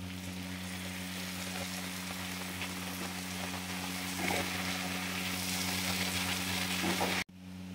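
Water poured onto sautéed vegetables for a vegetarian shukto, giving a steady close hiss and bubbling sizzle that holds throughout, swells briefly near the end and then cuts off, with no talk.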